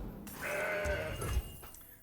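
A Mountain Goat card played in the Legends of Runeterra card game gives a single nasal bleat lasting about a second, clear and close, followed by a soft thump and faint game chimes.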